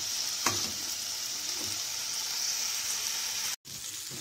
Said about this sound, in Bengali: এবার এই মশলাটাকে কষাতে হবে যতক্ষণ না একটা ব্রাউন ব্রাউন কালার আসছে।